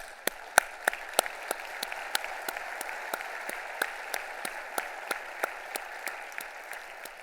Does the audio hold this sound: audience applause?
yes